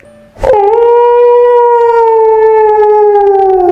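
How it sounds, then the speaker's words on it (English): A loud, drawn-out wolf howl, as told in the big bad wolf story, starts abruptly and holds as one long sustained tone with rich harmonics, bright and close, alone with no talking. "He let out a howl that was so loud."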